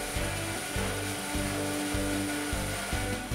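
A Hammer N4400 bandsaw from Felder hums steadily while cutting wooden chair parts upright, a low rhythmic thrum pulsing about every half second, continuous and close with no talk.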